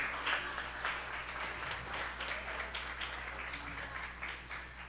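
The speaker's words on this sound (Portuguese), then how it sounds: "Vamos dar um aplauso ao Jesus nessa noite." A church congregation at a family celebration service claps together, a sustained, moderately distant patter of hands with slight swells, under a low steady hum and no clear speech.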